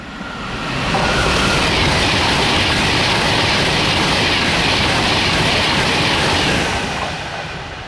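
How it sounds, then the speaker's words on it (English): Train passing close by on a December day, heading south toward London, swelling quickly into a loud, sustained roar of wheels and rushing air, then easing off as it pulls away. "There's a train coming through."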